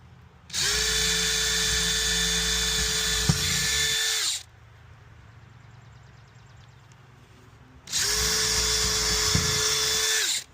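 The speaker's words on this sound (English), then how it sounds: "Now I'll drill both my holes." Two bursts of a power drill whirring at high speed drilling holes in a garage wall to mount solar motion lights, each about four seconds long, separated by a quiet pause, close by.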